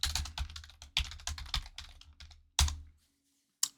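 Someone types a password on a computer keyboard. Close, crisp keystrokes come in quick bursts, a few louder key presses stand out, and a short pause comes before one final tap.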